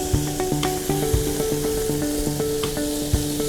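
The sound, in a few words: paneer frying in a little oil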